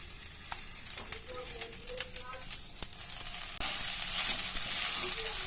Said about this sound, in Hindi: इधर मैं पोहा बना के गई थी, तो गरम कर रही हूँ पोहे को।